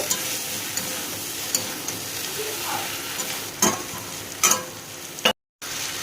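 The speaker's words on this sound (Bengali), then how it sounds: "দিয়ে ভালো করে এটাকে আবারও এর সাথে মিশিয়ে নেব।" A spatula stirs lentil dumplings (bori) made from chana dal through a vegetable curry in a hot pan, soft sizzling under scattered scrapes and a couple of louder knocks, then a brief silence.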